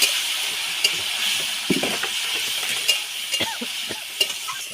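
Tilapia fish curry masala sizzles in a pan while being stirred, a constant frying hiss broken by scattered scraping and tapping strokes, close and clear with no speech.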